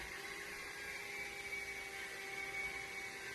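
A household vacuum cleaner runs steadily at a distance, a constant faint whirring drone with a thin whine on top, unbroken and with no talking.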